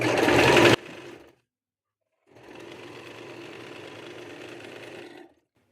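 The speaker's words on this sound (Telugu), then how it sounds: "దీంతో పాటుగానే ఫ్లేర్ ఫ్లేర్ కూడా ఒక స్టిచ్ వేసేసుకోండి కంటిన్యూషన్లో ఇక్కడ ఈ చివరి వరకు మీరు స్టిచ్ అనేది వేసుకోవాలండి" Sewing machine stitching the flare of a kurti, a loud burst at first, then a softer steady run of stitching after a brief pause, close by with no talk.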